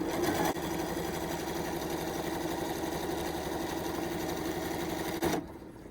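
A Janome Hello Kitty sewing machine stitches in reverse, a steady close buzzing hum throughout that cuts off abruptly near the end.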